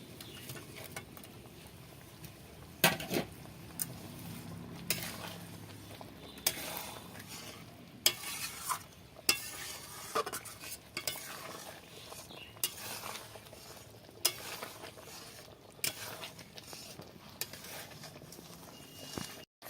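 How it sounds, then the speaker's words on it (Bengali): Rui fish korma gravy bubbling in a pan, a soft simmering hiss punctuated by irregular taps and clinks of a spoon against the vessel. "ঝোলটা ফুটে উঠেছে"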